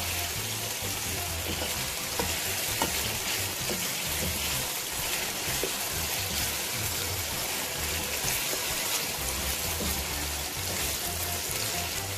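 Chicken sizzles and browns in a karahi, a constant dense hiss of hot oil with faint spatters and crackles that holds steady from start to finish, without any talking.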